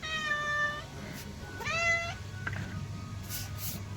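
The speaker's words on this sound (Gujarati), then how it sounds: "અહીંયા બિલાડી બેન આવી ગયા છે" A cat meowing close by in the morning, two clear drawn-out meows with a rising-falling pitch, followed by a faint third call and quiet background noise.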